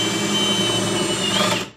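A power drill with a 19/64 bit bores through wood while resizing furniture handle holes, giving a close, steady whine that holds for under two seconds before cutting off abruptly.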